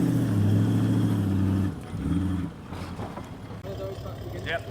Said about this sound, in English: It wasn't long before Aaron found a bog hole, and hoping for a challenge, he dived straight in.